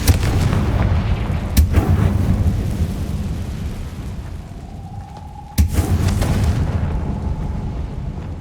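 Confringo spell explosions in the video game Hogwarts Legacy give two sharp, loud blasts a few seconds apart, each followed by a rumbling roar over a constant low background.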